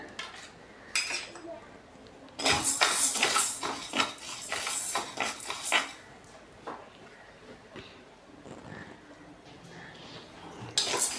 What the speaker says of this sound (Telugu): కందిపప్పు దోరగా వేయించుకుందాం